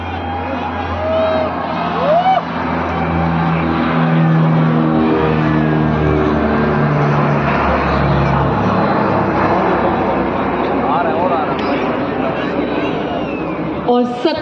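Military aircraft formation roars past overhead during a Republic Day full-dress parade rehearsal, a loud sustained engine drone swelling and fading over crowd noise while an announcer speaks over a public address.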